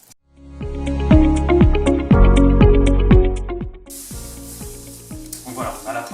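A hot, greased pan sizzles loudly and steadily ahead of cooking a Breton crêpe, with crackling pops throughout and a brighter hiss that takes over near the end.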